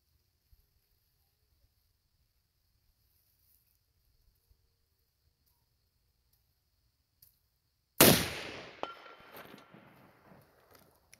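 A single pistol gunshot at an outdoor shooting range cracks out sharp and loud after a long quiet stretch, its echo and reverberation trailing off over the following seconds.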